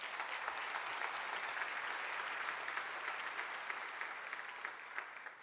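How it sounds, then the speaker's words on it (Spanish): A church congregation in Medellín gives a sustained round of applause, dense and even clapping from many hands heard in a large hall, continuing steadily and easing slightly at the end, with no talking. "Denle un fuerte aplauso al Señor."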